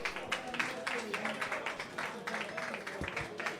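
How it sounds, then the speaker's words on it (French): An audience claps loudly for the candidates at a Mister Rubber France pageant, with sustained, uneven applause and some voices underneath. "On peut les applaudir très très fort,"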